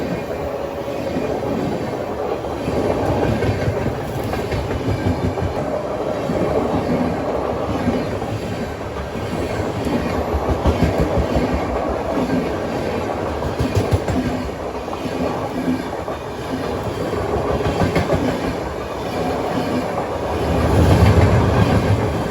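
Passenger train outside Bangalore Cantonment clattering over a crossover, with a continuous rumble and rapid clickety-clack of wheels on rail joints heard from inside the coach, steady and loud with a brief heavier surge near the end.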